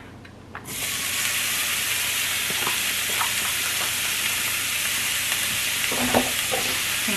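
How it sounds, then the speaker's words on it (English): Onions and peppers sauteing in hot oil for a taco-meat soup: a steady, loud sizzle starts abruptly and holds throughout, with occasional small pops and stirring clicks. "So let me just give my oil a minute to warm up, and we'll be right back and start sauteing."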